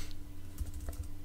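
Fingers tap a handful of soft keystrokes on a computer keyboard while entering email account details, faint clicks clustered over about half a second against a quiet room hum.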